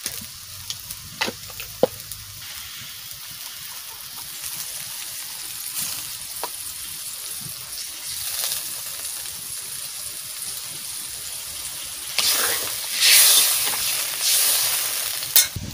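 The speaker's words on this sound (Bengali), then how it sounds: "জল দিয়ে দিচ্ছি।" Water poured into a hot frying pan while cooking a Bengali curry with helencha greens and fish, giving scattered clicks at first and then a loud hissing sizzle that swells near the end.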